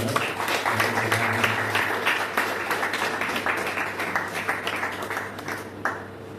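An audience claps steadily to welcome a pastor onto the stage at a church fasting-prayer gathering, with a dense, continuous round of applause that holds for several seconds and then thins slightly toward the end.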